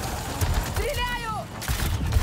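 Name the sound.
gunfire in the video game Marvel's Spider-Man 2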